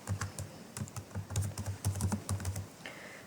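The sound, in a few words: typing code on a computer keyboard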